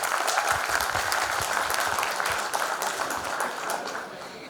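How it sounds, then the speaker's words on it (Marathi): Steady, dense applause from a school reunion audience fills the whole stretch at an even, fairly loud level, easing off slightly toward the end. "एकदा टाळ्या होऊन जाऊ तिच्याकरता"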